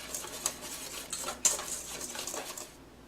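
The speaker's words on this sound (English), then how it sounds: "I'm going to mix this until it's nice and incorporated." Cornbread mix and milk stirred together in a bowl, with a utensil scraping and clinking against the sides in irregular strokes, fairly quiet and close, with no voices.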